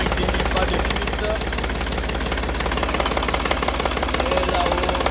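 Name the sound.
Renault E70 tractor engine running after start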